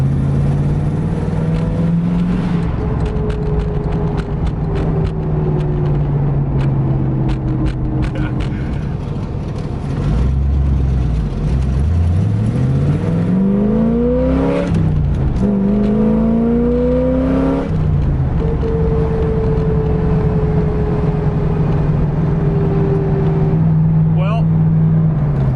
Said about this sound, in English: Made a lot of noise, you hear the carburetor suck and go nowhere.